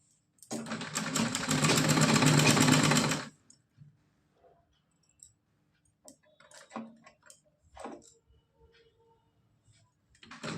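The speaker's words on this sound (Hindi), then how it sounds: "इस तरह से सीधी सिलाई इसमें लगानी है।" A sewing machine stitches a small cotton dress for a Laddu Gopal idol, a close, loud burst of rapid mechanical whirring for about three seconds, then soft clicks and fabric handling in near silence.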